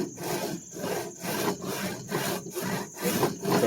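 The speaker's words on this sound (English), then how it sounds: "Now your saw is going to want to follow that kerf on the other side." Hand saw cutting through wood along an existing kerf, steady rhythmic back-and-forth rasping strokes about two per second, close and alone.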